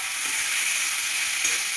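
Tomatoes frying in a hot pan for tomato rice give a steady, close sizzle with light stirring scrapes, with no voices.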